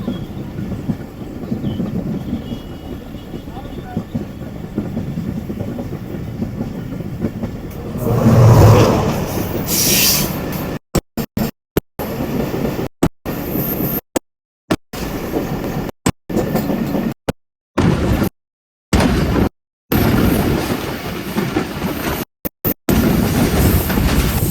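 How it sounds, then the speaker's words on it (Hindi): A train hauled by a GU 40 locomotive passes on track with new sleepers, as a loud, close rumble that swells, then goes on with clattering wagons and wheel noise. The sound cuts out briefly several times, and no one speaks. "ये एक और ट्रेन आ रही है भाई GU 40 के साथ"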